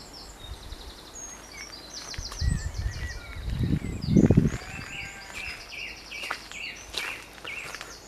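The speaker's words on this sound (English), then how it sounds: "Listen to the birds." Birds chirp and sing in the distance, with brief rustling and low thumps close by partway through.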